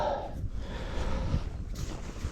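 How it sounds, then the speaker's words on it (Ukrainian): Steady outdoor wind buffeting the microphone, a continuous low rumble with a faint hiss on top, with no other sound standing out. "Вітер роздувся"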